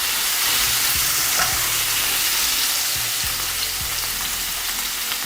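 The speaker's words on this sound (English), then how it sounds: "with the garlic, just going to lightly saute the garlic in the same pan" Garlic sizzles and fries over low-medium heat in the same pan used for pepper steak, giving a constant close crackle with a few soft scrapes or stirring knocks and no voices.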